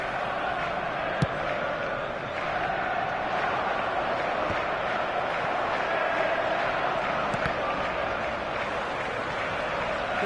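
A dense stadium crowd roars steadily in an eFootball match, a continuous wash of cheering and chanting with a couple of brief sharp knocks.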